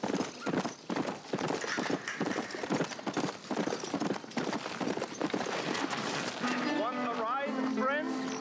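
Horse hooves from the western video game Red Dead Redemption, a steady clip-clop of a ridden horse under someone talking, ending in a whinny while music comes in.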